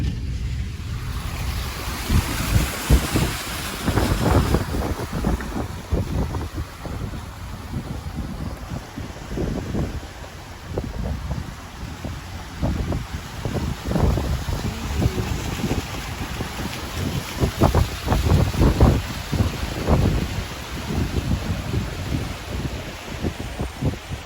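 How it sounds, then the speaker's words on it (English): Storm surge waves from Hurricane Idalia crash steadily onto a flooded parking lot at Charlotte Harbor, with a continuous roar of surf and wind buffeting the microphone for over twenty seconds and no voices. "Look at the waves are crashing in on the parking lot."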